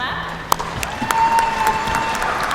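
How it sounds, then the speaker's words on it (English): Crowd applause at a high school graduation ceremony as choir performers come up, with steady clapping, a few sharp louder claps standing out, and speech-like sound mixed in. "So let's give them a round of applause as they come"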